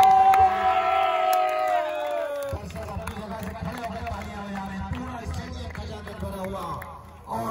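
A crowd at a local cricket tournament match erupts in loud cheering and shouting, a dense roar with excited yells and clapping, while a commentator's voice rises over the noise near the start.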